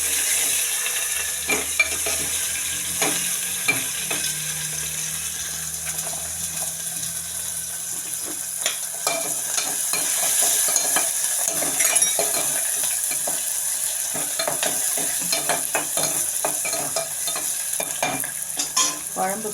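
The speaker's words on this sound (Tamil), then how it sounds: "வெங்காயம் பூண்டு போட்டு வதக்கிட்டு" Onion and garlic sauté in a pan for a fried potato masala kuzhambu: a steady close sizzle with frequent clicking, scraping stirs against the pan.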